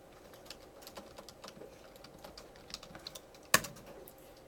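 Soft, quiet keystrokes on a computer keyboard as turtle graphics code is typed during a lecture. The taps are scattered and irregular, with one sharper, louder key click near the end.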